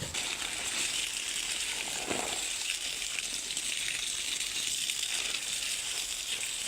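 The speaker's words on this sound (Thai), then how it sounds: "น้ำไหล น้ำเยอะ" A large volume of water flows in a steady, broad gush that stays constant throughout, close and fairly loud with no talking.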